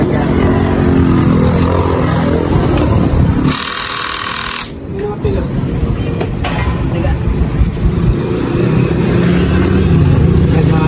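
A just-repaired motorcycle engine runs loud and steady close by, with a brief hissing burst partway through before the rumble carries on.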